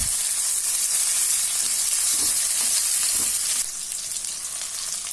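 Onion, tomato, curry leaves and green chili sauté in a pan for a potato-pea kurma, a strong steady sizzle with a few soft stirring knocks, easing slightly toward the end, no speech.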